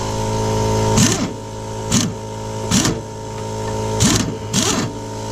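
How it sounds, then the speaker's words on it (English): Bolt being removed from a Honda Prelude CV axle, heard as five short, sharp mechanical bursts about a second apart, over a steady whining hum. "Then we're gonna take the bolt out."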